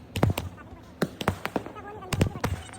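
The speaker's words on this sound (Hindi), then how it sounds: "तो सबसे पहले हमने यही पटाखा चलाया" Multi-shot firecracker cake set off on a terrace for Diwali, a string of sharp loud bangs in quick clusters with short gaps, crackling between bursts.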